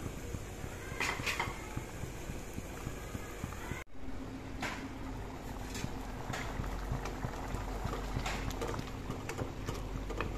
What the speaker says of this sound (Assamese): এতিয়া উতলিবলৈ দিম আৰু 10 মিনিট সময়